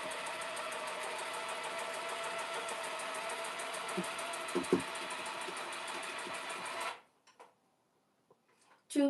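A tufting gun's motor runs fast and steady with a dense buzzing whir for several seconds, then cuts off abruptly, leaving near silence and a few faint knocks.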